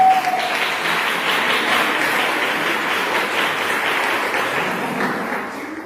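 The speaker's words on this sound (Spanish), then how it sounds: "Se pueden dar un aplauso a ustedes mismos." A congregation at a church discipleship class claps for themselves, a dense, sustained round of applause that starts loud and slowly tapers off toward the end.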